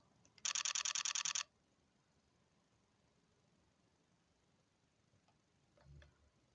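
Nikon Coolpix A1000 compact camera shutter firing in continuous shooting mode: a rapid, even burst of about ten crisp clicks lasting one second, then quiet room tone with a faint handling thump near the end.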